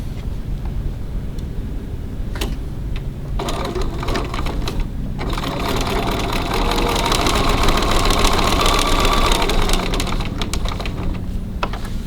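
A sewing machine running in steady bursts while stitching down card pockets on a fabric wallet, giving a rapid mechanical whirring rhythm that pauses briefly and then resumes, close up with no voices.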